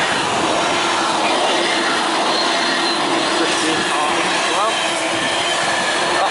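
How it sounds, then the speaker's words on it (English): Class 66 Freightliner freight train bound for Doncaster passing through Grantham, a loud continuous rumble and rattle of wagons with faint wheel squeal. "Here we have a class 66 freight going to Doncaster, I think."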